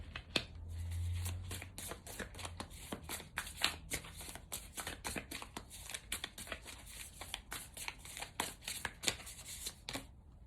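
A deck of tarot cards being shuffled in a rapid run of crisp riffling clicks and flutters, close and steady, with no talking.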